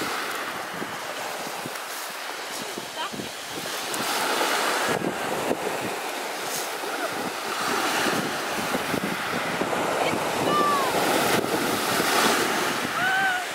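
Sea waves of the English Channel wash and roll continuously along the English coast in summer, with wind buffeting the microphone and faint voices audible in the background.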